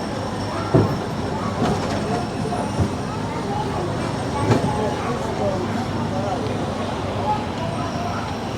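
A Disneyland monorail train rumbles and clatters steadily on its track as it comes to a stop in the station, with occasional clunks, while announcements and voices sound over it.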